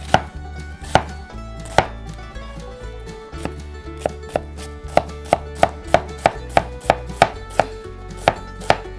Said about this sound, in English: Easy diced onion.